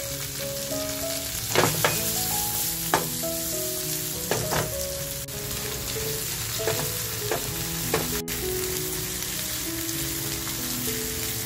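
Chopped onion fries in oil in a pan, a steady loud sizzle broken by several clinking, scraping stirs of a utensil against the metal. No one speaks.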